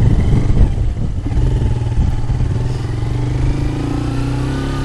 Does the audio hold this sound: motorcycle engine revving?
yes